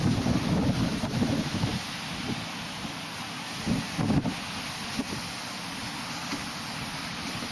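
Ocean surf at North Myrtle Beach in Cherry Grove, with wind buffeting the microphone in heavy low rumbling gusts over a steady hiss of waves.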